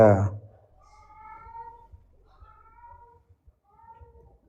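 A cat gives a sequence of drawn-out, wavering meows, fairly close and moderately loud, after a brief burst of human voice at the start.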